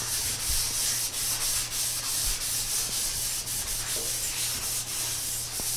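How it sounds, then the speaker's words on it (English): A Scotch-Brite pad with grease and wax remover scrubs the bottom side of a Ford Falcon floor pan, giving steady, continuous close-up rubbing and scouring with a low hum beneath and no talk. "I'm going to take a little of this grease and wax remover with a Scotch-Brite."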